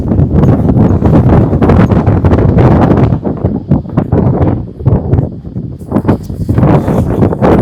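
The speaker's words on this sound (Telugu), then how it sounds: "గాలి విపరీతంగా వేస్తుందండి." Strong wind on top of Sigiriya Rock in Sri Lanka, roaring and buffeting the microphone in loud, continuous gusts that ease briefly midway before surging again.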